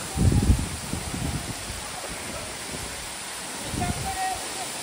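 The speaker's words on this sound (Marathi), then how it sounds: "धबधबा" Continuous roar of a waterfall mixed with gusty wind bursts, loud and close, with a few faint voices in the background.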